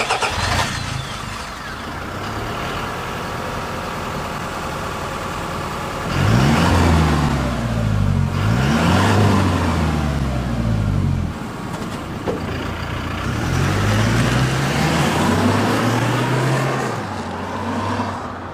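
Mid-rpm exhaust from a Toyota Hilux GUN125 fitted with a Ganador aftermarket muffler, giving a deep drone with a pair of strong rev swells mid-clip and a later sustained pull, loud and close with no voices.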